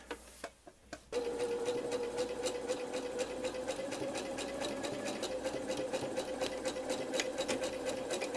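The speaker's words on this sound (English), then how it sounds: "I have the lace with the top edge along the bottom, and I'm going to sew across that" A sewing machine sews lace onto fabric with a quarter-inch seam, starting with a few separate clicks before settling into a steady, fairly quiet run of rapid stitching.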